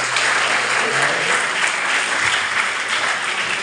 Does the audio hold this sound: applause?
yes